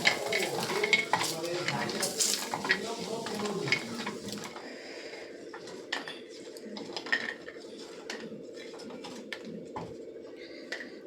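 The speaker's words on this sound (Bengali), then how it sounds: "তেল দিয়ে এখানে বড়িগুলো ভেজে নেব।" Bengali lentil dumplings (bori) frying in oil in a pan after fish give a close sizzle with frequent clinks and scrapes of a spatula stirring against metal, quieter toward the end, with no talk.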